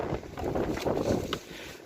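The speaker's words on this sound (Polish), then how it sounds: "Patrzcie się jaki wiatr" Wind gusts outdoors on a farm, buffeting the microphone in a steady rushing roar for the whole moment.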